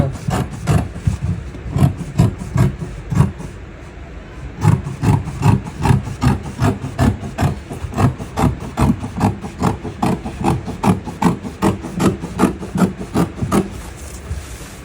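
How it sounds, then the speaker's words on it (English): Scissors cut through dress fabric on a table in steady, rhythmic rasping snips, roughly two per second, close and clear. There is one brief pause early on, and no talking. "So now you're going to grab your scissors"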